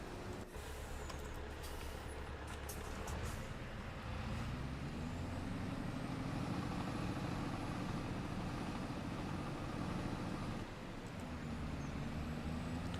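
A truck engine in Farming Simulator 25 gives a steady, low rumbling drone at an even level throughout, with a brief hiss near the start.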